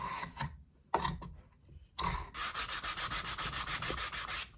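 Wood is hand-sanded on a box built from scavenged firewood, with a few separate scrubbing strokes followed by a quick run of rhythmic back-and-forth rubs, close and fairly quiet, with no speech.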